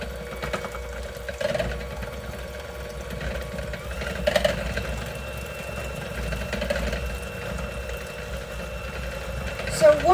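An electric hand mixer whirs steadily while beating egg whites with cream of tartar for a meringue banana cream pie, a continuous mid-pitched motor drone with a voice speaking over it.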